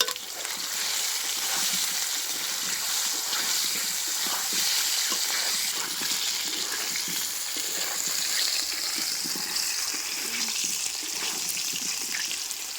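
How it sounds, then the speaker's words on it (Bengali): Potatoes fry in hot oil with a steady, hissing sizzle that keeps up evenly the whole time, close and moderately loud. "আলুগুলো ভালো মতনই ভাজা হয়ে গেছে"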